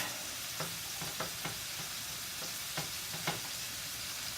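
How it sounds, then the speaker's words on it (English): Noodles stirred in a pot for a Blue Apron meal kit dish, with a run of soft, evenly spaced scraping knocks under a constant low hiss, faint and without talk. "Stir them up to get them separate a little bit."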